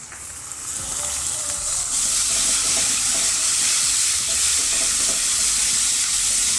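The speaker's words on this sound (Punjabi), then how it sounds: "ਚਾਰ ਪੰਜ ਮਿੰਟ ਵਾਸਤੇ ਪਿਆਜ਼ਾਂ ਨੂੰ ਭੁੰਨਾਂਗੇ ਆਪਾਂ" Grated onions fry in a pan for kofta curry with a loud, steady hiss that swells in the first two seconds and then holds close and constant.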